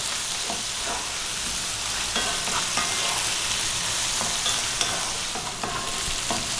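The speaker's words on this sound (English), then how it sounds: "we're going to fry the onions with the meat for another 5 minutes or so. Stir often." Onions and lamb fry over fairly high heat in a pan for Ethiopian tibs, a steady sizzle with intermittent scrapes and clicks of a spoon stirring throughout, close and continuous with no talking.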